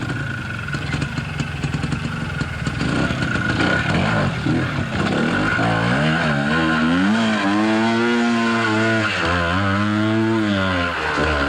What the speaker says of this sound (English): Plenty of throttle is the key as it gets through